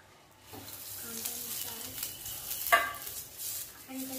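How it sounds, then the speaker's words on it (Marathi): Oil sizzles steadily on a hot griddle being prepared for dhirde, a continuous close crackling hiss with a few faint clinks of utensils. "तेल लावून घेतलेलं आहे, तवा छान तापलेला आहे."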